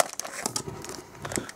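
A trading card booster pack from the My Little Pony series 1 fun pack box is torn open, its foil wrapper crinkling and crackling in several close, uneven bursts with no voices.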